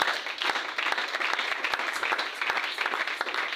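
A church congregation claps together in praise of the Lord, a dense, steady roar of applause that stays loud and even from start to finish, with no voices standing out.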